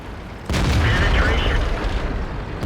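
A Tiger 2 tank cannon fires in World of Tanks, a sudden loud boom followed by a long rumbling tail that fills the rest of the moment.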